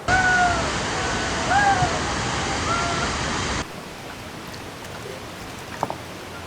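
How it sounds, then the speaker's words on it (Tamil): Dried fish being washed and rinsed in hot water: a steady rush of running, splashing water for a few seconds that cuts off abruptly, leaving a quiet room with a faint knock. "இப்போ நம்ம சுடுதண்ணி வச்சு இதை கழுவி அலசி போட்டுக்கலாம்"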